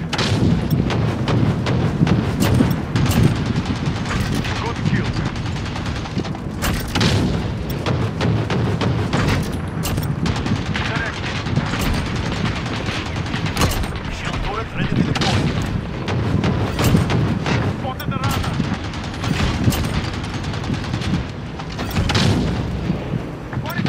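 Rhino 2-2 air support killstreak firing in Call of Duty Search and Destroy: dense, repeated heavy booms and blasts roll on without a break, while a radio-style voice speaks over them at times.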